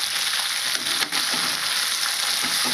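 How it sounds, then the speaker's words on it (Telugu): Cluster beans fry in oil in a pan with a constant, dense sizzle, close by, broken by a few soft stirring scrapes. "దీనిలో ఒక 5 నిమిషాలు బాగా ఆయిల్లో ఫ్రై చేద్దామండి"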